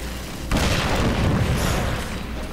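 Sudden heavy boom of a bomb exploding in the video game Darksiders 2, followed by a loud, broad rumble that lingers and slowly fades over a couple of seconds.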